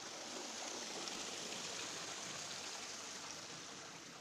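Water flows steadily down into a clean water settling tank, a continuous soft rushing and trickling with no break, fairly faint and heard alone without any voices.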